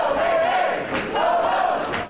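A large crowd at a Las Vegas City Council meeting shouts in unison, loud and sustained, with a couple of sharper bursts rising above the roar.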